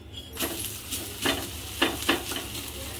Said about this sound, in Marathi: आता आपण याला पलटून घेऊया.